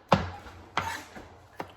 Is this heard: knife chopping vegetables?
yes